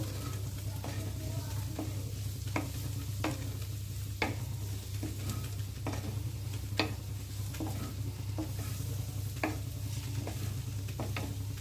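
A broccoli mixture stirred in a frying pan over a steady sizzle, with regular soft scrapes and taps of the spoon every second or so, close and even in level with no talking.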